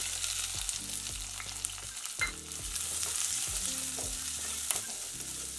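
Chopped onion fries in a pan with mustard seeds and cumin for a North Karnataka mixed pulses curry, giving a steady close sizzle broken by the scrape and clatter of stirring. No one speaks.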